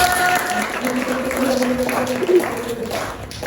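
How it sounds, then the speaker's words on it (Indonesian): A classroom of students claps for a classmate, a brief, steady burst of applause close by while a teacher talks over it. "Tepuk tangan Eder."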